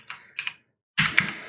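Someone types a terminal command on a computer keyboard for a Raspberry Pi web server: a few sharp, close keystrokes, a brief pause, then a quicker burst of clacks.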